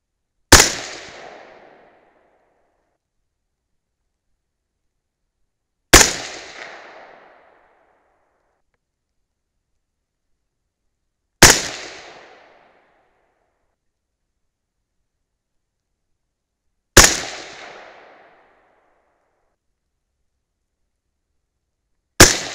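Five separate rifle shots from a 6.5 Grendel firing 120gr Hornady ELD Match handloads, each a sharp, loud crack with a short decaying echo, spaced about five to six seconds apart with silence in between.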